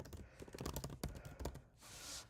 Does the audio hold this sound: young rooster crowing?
no